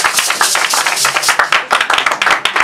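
A church congregation claps loudly and rhythmically in praise, a fast steady beat of many hands close by, alone without talk.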